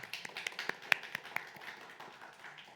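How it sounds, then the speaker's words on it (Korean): Light scattered clapping from a small church seminar audience, a handful of quick uneven claps that thin out and fade, fairly quiet and without talk. "박수 한번 쳐줄까요?"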